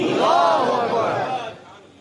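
A crowd answers a takbir call at a religious gathering with a loud, unified shouted chant that swells and then fades away over about two seconds.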